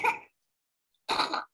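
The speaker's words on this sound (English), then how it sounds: "This is coughing." Coughing recorded during a pediatric EEG session, two short, sharp bursts separated by nearly a second of silence, close and moderately loud.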